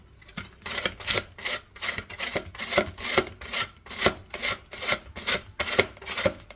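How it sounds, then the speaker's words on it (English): Raw chicken breast rasped against a hand grater in quick, even strokes, about two per second, close and crisp with no talking. "to grate it like when you shred cabbage or carrot"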